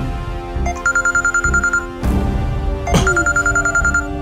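A telephone rings in a domestic scene, two bursts of rapid trilling electronic bell tones separated by a short pause, loud and close over a faint background.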